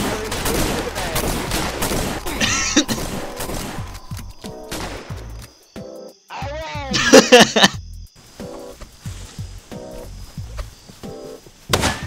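Gunfire in the Roblox Westbound video game, a few sharp loud shots and thumps scattered among game noises, with people talking and reacting over voice chat.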